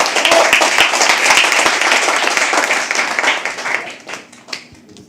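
An audience at a live poetry open mic claps loudly and steadily, a dense burst of applause that thins into a few scattered claps before fading.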